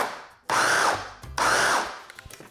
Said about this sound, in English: You wanna add your butter, salt, and sugar. And then pulse it just to give it a slight mix.